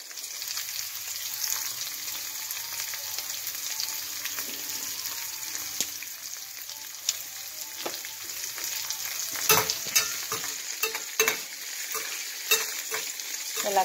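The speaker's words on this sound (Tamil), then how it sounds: "எல்லாத்தையும் நல்லா வதக்கிக்கலாம்." Onions and spices, both small and large onions with pieces of cinnamon, sizzle and fry in a pan for mushroom gravy, a steady close hiss with occasional scraping stirs toward the end.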